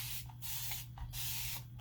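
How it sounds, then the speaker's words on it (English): Water is spritzed from a spray bottle onto a crafting surface while a small sign transfer is prepared: several quick, close hissing bursts follow one another in an even rhythm over a faint low hum. "is just spritz my surface a little bit"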